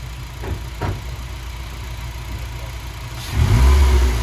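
A 2015 Honda Civic Si idles with a low rumble, a couple of quick blips, then revs hard into a loud, sustained roar near the car, with no talking.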